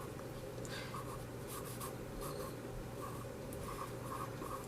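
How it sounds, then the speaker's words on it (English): Pencil sketching quick thumbnail drawings on paper, a steady soft scratching of graphite with rapid short strokes throughout, close and fairly quiet, with no talking. "I'm going to just like thumbnailing these sketches real quickly"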